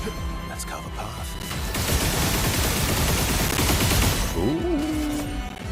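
Dense, sustained gunfire in a video game boss fight, a loud continuous barrage of overlapping shots lasting a few seconds amid busy game sounds.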